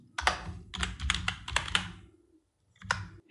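Someone types a short layer name on a computer keyboard while working in Photoshop, giving several quick clustered keystrokes close up, a brief pause, then one last burst of keys.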